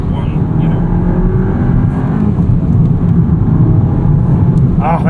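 A tuned 2022 VW GTI MK8 with a six-speed manual drones with a steady loud engine note, close and continuous, while people talk over it.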